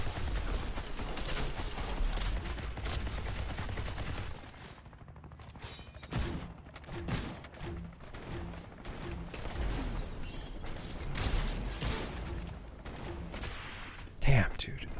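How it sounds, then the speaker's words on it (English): A dense barrage of video game gunfire rattles almost continuously, with rapid overlapping shots and heavy impacts, while a voice speaks intermittently underneath. "I'm dodging bullets."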